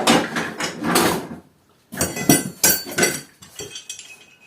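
Plastic fence parts for a Scheppach HF60 tabletop router table are unpacked close by, producing a run of clattering, rattling knocks and light clinks with one short pause.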